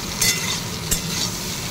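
Soybean chunks frying in hot oil while being stirred, a steady close sizzle with two brief scraping stir strokes near the start.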